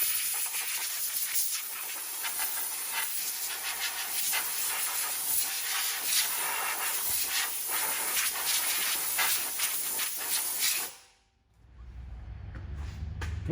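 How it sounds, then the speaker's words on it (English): Compressed air blows steadily in a loud, continuous hiss across freshly cleaned brake parts during a brake overhaul on a 2007-2011 Honda CR-V, then cuts off abruptly near the end, leaving a low rumble. "You have compressed air."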